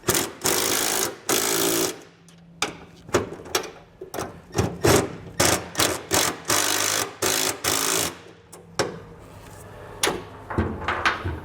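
A 7/16 socket on a power driver tightens carriage bolts on DeeZee oval tube truck steps, giving short, sharp rattling bursts that repeat in a quick, uneven rhythm with brief gaps between them, close and fairly loud.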